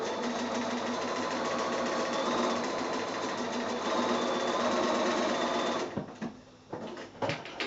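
A sewing machine stitches quilt pieces together in a steady, rapid, close mechanical whir for several seconds, then halts, leaving a few soft clicks and handling noises.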